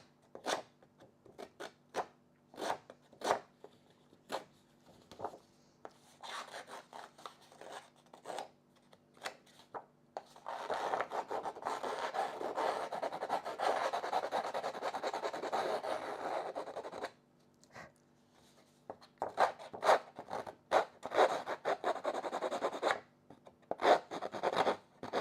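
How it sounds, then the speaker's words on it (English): Rasping, scratchy strokes of a tool distressing scrapbook paper edges, in short repeated bursts with a longer continuous scrape in the middle, close up. "And distress my edges just a little bit."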